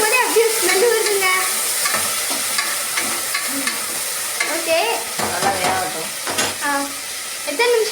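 Tomatoes are stirred and fried in a pan, giving repeated scraping stirs over a steady sizzle close up, with a brief spoken word.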